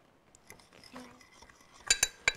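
A utensil stirs a sesame and yogurt sauce in a bowl, giving soft scattered scrapes followed by a few sharp, bright clinks against the dish near the end.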